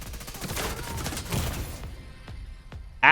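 Rapid assault rifle bursts crackle in The Division 2, a dense run of shots that thins into two or three sharp single reports before a loud burst cuts in at the end.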